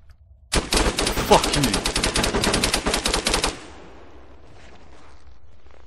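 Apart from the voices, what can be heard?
gunfire in the video game ArmA 3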